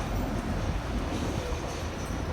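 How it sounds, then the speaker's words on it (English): An older green tram originally from Basel, Switzerland, rolls along a boulevard in Sofia, giving a steady, fairly loud broadband rumble of wheels on rails with no clear breaks or voices. "These green trams, they are from the city of Basel in Switzerland."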